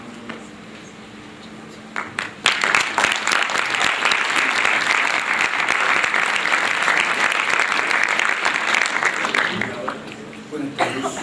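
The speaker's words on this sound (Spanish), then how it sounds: "Siempre es bueno comenzar con un aplauso, aunque sea solo tentativo" An audience at an international labour procedural law congress panel breaks into steady applause that swells and holds for several seconds, then fades, with a brief murmur of voices before and after.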